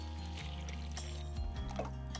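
Water poured into a small container holding iodine and liquid soap to make a garden spray solution, a quiet, steady liquid pour and trickle, close and soft.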